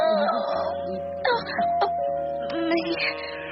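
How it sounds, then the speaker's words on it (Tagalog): A bright two-tone electronic chime rings out over ongoing talk in a room, its tones sustaining and then sounding again. "May doorbell"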